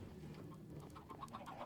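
Chickens cluck and coo softly in a video game, where three types of chickens sit on a roof laying eggs; a quiet, steady run of short bird calls repeats over low background noise.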